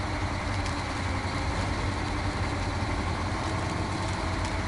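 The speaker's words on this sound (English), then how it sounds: "I'll put some real, actual engine noises in over it." A truck in the off-road driving game SnowRunner gives a steady, loud, broadband engine rumble with no break, close and alone with no talk.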